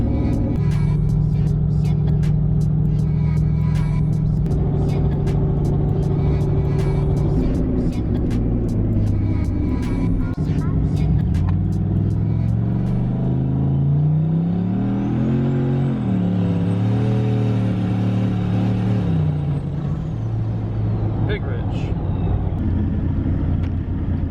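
Truck engine humming steadily from inside the cab of a shop truck, its pitch rising and falling as the vehicle shifts and accelerates, with some clicks and rattles.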